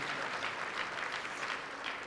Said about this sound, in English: you give Senator David Perdue another round of applause